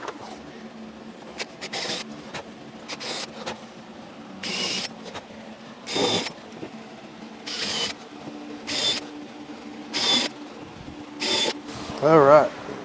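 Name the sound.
power drill driving screws into ramp safety treads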